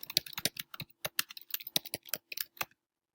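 Quick, crisp keystrokes on a computer keyboard as an email message is typed, coming in irregular bursts of close clicks for under three seconds before falling silent.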